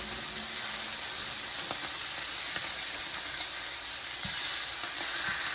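Continuous sizzling of chicken frying in a pan, a steady close hiss with occasional small pops and crackles.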